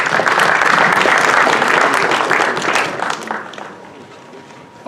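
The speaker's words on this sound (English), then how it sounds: "So really a round of applause for them." A round of applause rings out from an audience at a Melaveh Malka evening, loud, dense clapping that holds steady for several seconds before fading out.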